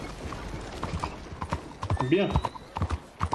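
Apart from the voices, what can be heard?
horse hooves in Red Dead Redemption 2, video game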